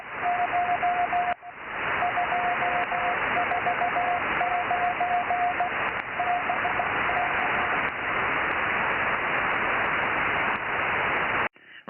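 Morse code CW tones come over a 70cm amateur radio net check-in. A steady keyed tone sits under loud, continuous hiss and static, with short pauses between groups of characters and no voice.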